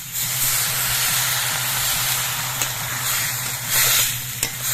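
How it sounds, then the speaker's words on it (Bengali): Water splashed into a hot pan of leafy greens and potatoes hisses and sizzles steadily with a loud, close steam rush and faint stirring scrapes, with no voices. "শাকের মধ্যে যে আলুগুলো আছে এখনো সেদ্ধ হয়নি এই জন্য আমি অল্প একটু জল দিয়ে দিচ্ছি"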